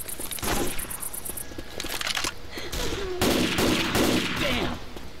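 Rapid bursts of gunfire from the video game Left 4 Dead 2, with repeated shots crackling over a busy, loud in-game background throughout.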